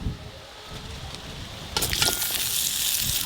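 Potatoes frying in the same oil used for fish, cooked in a rustic village kitchen: a steady sizzle that swells louder partway through, with occasional stirring noises and no talk.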